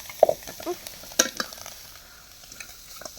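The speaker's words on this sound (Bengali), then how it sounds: "মানে গোস্তটা ভালোভাবে ভাজা নিল আর কি" Meat frying in a pan: a soft sizzle runs throughout under stirring scrapes, with a sharp metallic clack from the spoon near the middle and a few lighter scrapes after.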